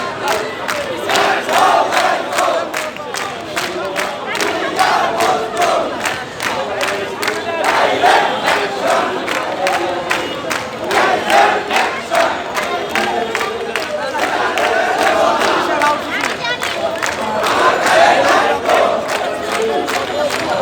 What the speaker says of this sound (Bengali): দেখতে পাচ্ছি তারা মুহুর্মুহুর স্লোগান দিচ্ছে